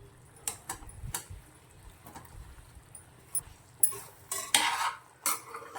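Paneer cubes dropped into thick masala in a pan for Dhaba-style paneer butter masala, heard as scattered soft clinks and scraping stirs with a utensil, a few sharper bursts near the end, no talking.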